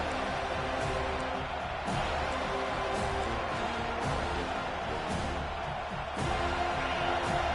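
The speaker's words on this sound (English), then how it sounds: "Decibels rising as the crowd gets behind this defense on third down" A stadium crowd in a football video game roars steadily at third down, a dense, sustained wash of cheering with occasional thumps and claps, continuous and fairly loud.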